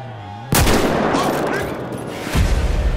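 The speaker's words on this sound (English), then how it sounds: "I shot him." A sniper rifle fires in GTA 5: one sharp, loud blast that rings out into a long echoing tail, followed by a second heavy report near the end.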